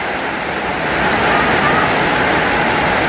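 Floodwater rushes in a loud, steady roar, close and unbroken throughout.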